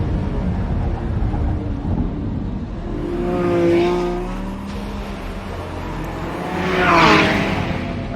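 A 2024 Lamborghini Revuelto, the roughly 1001-horsepower Aventador successor, driven hard in Corsa track mode, its engine rising and falling through two strong surges of revving and acceleration heard from inside the car.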